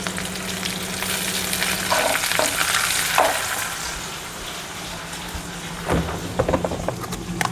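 Onions sizzle steadily as they fry in a pan for an aloo vange recipe, with a few scraping stirs of a spoon partway through, close and continuous, with no talking.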